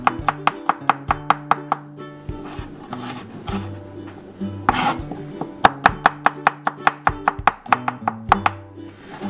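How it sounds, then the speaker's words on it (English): Garlic sliced with a knife on a cutting board for meatloaf, crisp rhythmic chops in quick even runs, close and loud, with a brief scraping pause midway and no talking. "let's mince up some garlic. We're going to do this up really, really quick. So we'll start by slicing it."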